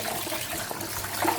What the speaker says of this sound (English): So wash your rice.